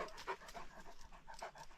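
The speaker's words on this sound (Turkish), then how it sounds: "çok saldırgan bir köpek. Hepimize sarıyor." A dog at a construction site pants rapidly and rhythmically up close, quick breathy huffs repeating steadily with no talking.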